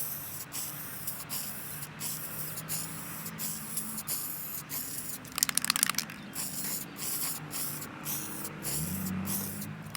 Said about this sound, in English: We spray just a little heavy, but just spraying straight down.